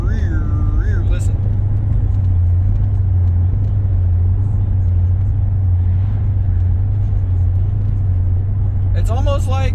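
An old abandoned museum car on a long drive makes a loud steady engine and road drone inside the cabin, with a repeating wavering whine that rises and falls near the start and again at the end.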